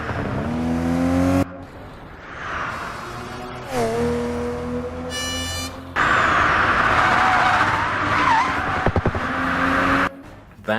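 A Tesla Roadster and a Ferrari Testarossa race in a video game, with loud engine drone, rising revs, gear shifts and abrupt cuts between sounds, and short high-pitched electronic tones in between.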